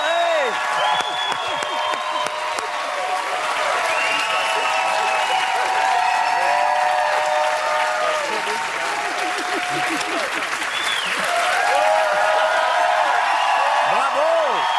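A live audience at an improv comedy show applauds loudly for three improvisers, sustained, dense clapping close up, with cheers and whoops rising over it.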